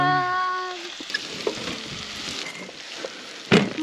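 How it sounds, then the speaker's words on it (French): Small crabs frying in a pan with a little Espelette pepper, a soft sizzle with scattered clicks and a louder clatter near the end, preceded by a brief tonal whine. "Et cela, on les fait frire."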